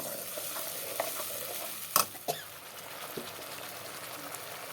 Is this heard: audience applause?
no